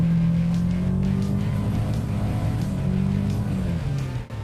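An abandoned police car's engine drones as it drives forward, with a low hum rising and falling in pitch, steady and close, ending with a brief dip.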